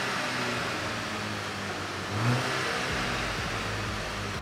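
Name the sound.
stock car exhaust revving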